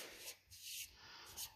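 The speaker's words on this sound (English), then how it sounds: "we're sanding down this primer." Hand sanding blocks down CRE321 primer on a 1980 Suzuki GS750 motorcycle part in a garage, producing faint, short rasping strokes in a steady back-and-forth rhythm.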